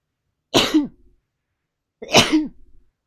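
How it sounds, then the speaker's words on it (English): Two sharp, explosive sneezes about a second and a half apart, close and loud with silence in between. "freaking just the sneeze attacks at times. Come out of nowhere."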